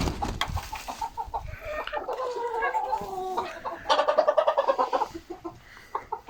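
Small bantam chickens, including Silver Laced Bantam Wyandottes, cluck and chatter nearby, a busy run of short clucks and squawks overlapping in uneven bursts.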